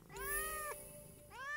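A cat meowing in the burglary game Thief Simulator 2: two clear, fairly close meows, the first long and drawn out, the second starting just before the end, with no talking.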